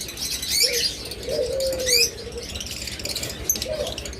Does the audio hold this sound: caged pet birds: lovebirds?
yes